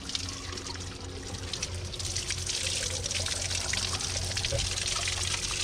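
Water pouring steadily from a well spout in Georgia's Pankisi Valley, a close, continuous splashing stream that grows slightly fuller partway through, with no talk over it.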